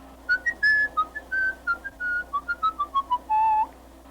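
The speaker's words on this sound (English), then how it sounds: "Now whistle for me." A person whistles a short, lilting melody of quick notes and a few held tones, close and clear with no talking.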